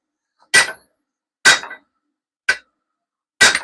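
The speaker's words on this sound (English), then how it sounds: "I gotta hammer more towards the straight." Four hard, ringing hammer blows strike heated metal in a workshop, evenly spaced about a second apart, loud and close over otherwise silent air.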